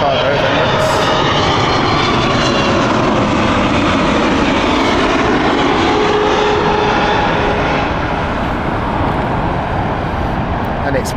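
Qatar Airways cargo airplane at Heathrow Airport, its engines producing a loud, steady roar that fills the whole stretch, with the broad rumble holding at close range throughout.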